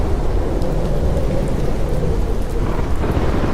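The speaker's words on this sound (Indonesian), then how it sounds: "Aku pun kaget dengan suara gemuruh ombak petir yang begitu besar" Thunder and crashing waves as a sound effect, a loud unbroken rumbling roar with heavy rain-like hiss throughout, steady with no distinct breaks and no voices.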